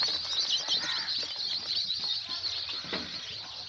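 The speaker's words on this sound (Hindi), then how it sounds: "सोनाली मुर्गी का चूजा लेकर के आए हैं।" A crowd of Sonali chicks cheeps in a dense, continuous high chorus, close and steady, with soft rustling among them in a cold-season brooding setup.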